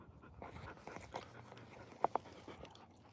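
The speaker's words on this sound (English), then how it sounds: "We got 4 dogs with us right now." Dogs out on a lion hunt in steep cliff country pant rapidly and softly close by, with a couple of sharp clicks or snaps partway through and no talking.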